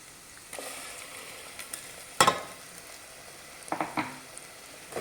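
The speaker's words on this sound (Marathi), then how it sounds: "हे वाटण छान आपण एक अर्धा मिनिट परतून घेऊया" Egg curry masala paste fries in hot oil with a steady, close sizzle. Two louder bursts come as the paste is stirred or disturbed, one near the middle and one toward the end, with no talking over it.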